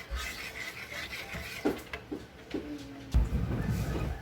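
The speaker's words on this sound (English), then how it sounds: "I'm just going to keep stirring until it starts thickening up" Beef pot pie filling is stirred in a pan on medium heat, giving soft scraping and rubbing strokes with a few light knocks of the utensil against the pan, close and fairly quiet.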